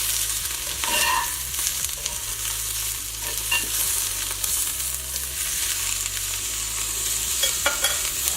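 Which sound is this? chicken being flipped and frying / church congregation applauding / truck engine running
chicken being flipped and frying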